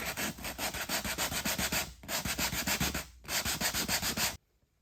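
240-grit sandpaper scrubbing the rough surface of a tattered leather sofa during restoration, rapid rhythmic strokes in three bursts separated by short pauses, close-up and alone before falling quiet.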